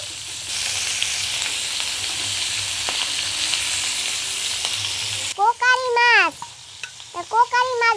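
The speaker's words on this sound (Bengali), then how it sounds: "মাছ ভাজা দিয়ে ফেলেছি" Fish frying in a pan in a home kitchen gives a loud, steady, close sizzle for about five seconds, then stops abruptly and a few seconds of voiced vocal sounds follow.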